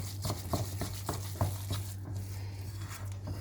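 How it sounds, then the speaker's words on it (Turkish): A spoon works through oily cookie dough in a bowl, giving soft repeated wet slaps and scrapes in an uneven rhythm over a low steady hum, close and fairly quiet. "Bunları karıştıracağım bir."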